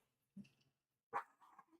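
A dog gives two or three short, soft barks or yips separated by a pause, close and fairly quiet against silence.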